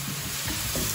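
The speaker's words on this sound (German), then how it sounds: "während der Zwiebel langsam dahin röstet" Onion roasts slowly in a pan until golden brown, the base for a potato goulash with sausages. A soft, continuous close sizzle carries a few light stirring bumps, with no voice.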